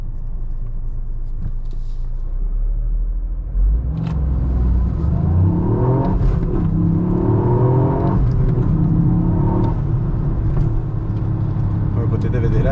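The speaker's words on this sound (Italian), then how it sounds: "adesso vi farò vedere magari una piccola partenza in modalità track, con appunto i controlli inseriti, senza strafare" Toyota Yaris GR making a track-mode launch start with stability controls on: a steady rumbling engine note rises into a revving surge of acceleration, with someone talking over it.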